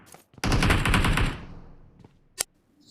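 A close, loud burst of automatic gunfire lasting about a second rattles on the old Erangel map in PUBG, trailing off, followed by a single sharp shot and faint scattered noises, with no talking.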